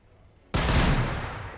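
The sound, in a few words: grenades launched, video game Warhammer 40,000: Battles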